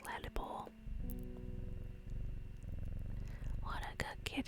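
A cat's steady, soft purr runs continuously at close range beneath quiet whispered speech, with a few light clicks and taps around it.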